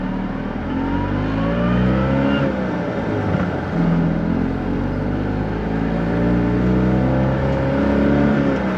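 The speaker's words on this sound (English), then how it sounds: "I've also got, following me, is Matt in his 32 Roadster." Engine drone of cars on the road, heard from inside a moving vehicle with a 1932 Roadster following behind, a steady loud rumble with gentle rises in revs and no talk.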